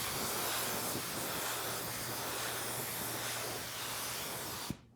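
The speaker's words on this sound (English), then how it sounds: "get these things all sprayed in. Now this is black sealer." Black sealer sprays from an aerosol can onto truck door handles in one long, steady hiss that cuts off abruptly at the end, followed by a brief clunk.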